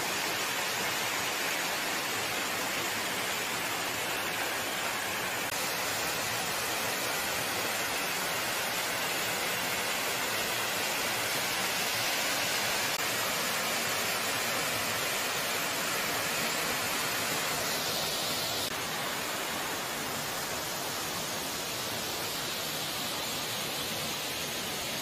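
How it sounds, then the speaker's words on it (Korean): Third falls of Sampo-am, a waterfall at the edge of Daegwallyeong in autumn, pouring steadily as a dense, continuous broadband rush with no breaks, close and loud throughout. "제3폭포."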